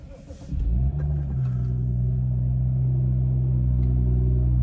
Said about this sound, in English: there's that lovely rumble from this 3-litre 6-cylinder engine's exhaust